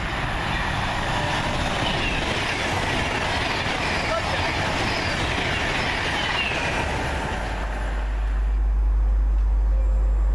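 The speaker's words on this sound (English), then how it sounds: "Comes our train now." A 7:48 service to London Euston rumbles steadily into Lichfield station, rail noise building with a low heavy roar toward the end as it draws close.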